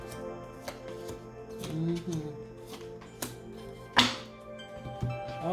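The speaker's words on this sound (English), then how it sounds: "Let's pull some more cards." Tarot cards are shuffled and pulled close by, soft papery riffles and a few sharp taps as cards are set down, with faint talk underneath.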